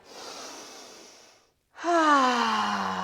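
A long, slow inhale followed by a fuller, louder exhale, close and alone, taken during a wide-leg forward fold in a mat yoga practice.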